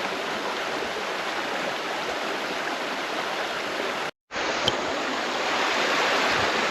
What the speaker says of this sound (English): see right where this kind of little waterfall comes down right into there, off the rocks